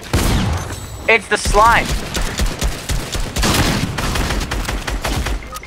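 Rapid bursts of video game gunfire crackle and pop across the whole stretch, loud and close, under excited voices talking and exclaiming.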